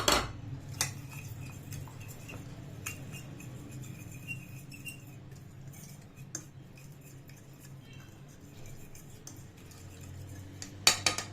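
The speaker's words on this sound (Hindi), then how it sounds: "हम इसको अच्छा सा करेंगे मिक्स" Spoon scraping and clinking in a bowl while marinade ingredients with vinegar are stirred together, steady soft clatter with sharper metallic taps at the start and end, no talking.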